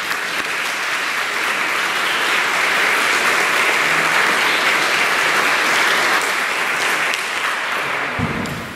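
A church congregation at Mass breaks into loud, sustained applause, a dense even roar of many hands filling the space for several seconds before tapering slightly at the end.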